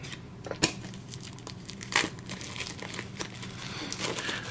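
Plastic wrapper of a Munchkin Adventure Time card deck being pulled open, close-up crinkling and tearing with two sharper rips and steady rustling in between.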